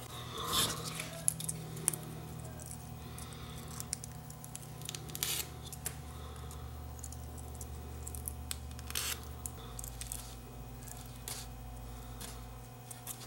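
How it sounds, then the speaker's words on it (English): Enamel insulation is scraped off the ends of enamel wire, a series of sharp, close scratching strokes and rasps in irregular bursts over a low steady hum. "You have to scrape the ends off of it."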